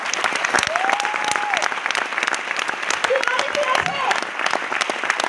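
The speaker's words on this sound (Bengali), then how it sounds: "একটা ফাটিয়ে হাত তালি" An audience at a training event bursts into sustained, dense clapping, loud and close throughout, with a few whoops and voices rising over the applause.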